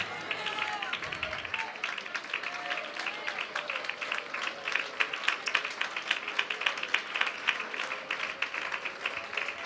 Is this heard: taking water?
no